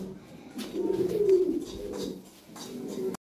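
Lahore siraji fancy pigeons coo close by in a steady, rolling murmur that swells and fades over a few seconds, then cuts off abruptly.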